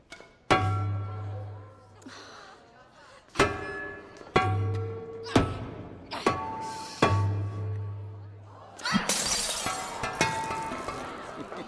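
An object is smashed into shards at a wedding in Rome: a series of sharp, ringing clinks and impacts ends in one bright, loud crash, with voices faintly present.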